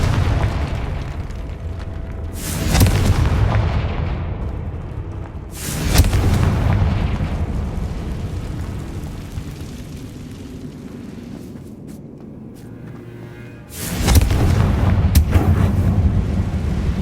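Confringo fire spells explode in Hogwarts Legacy as three booming blasts spread across the stretch. Each is a sudden bang trailing into a long rumble, with quieter crackling between them.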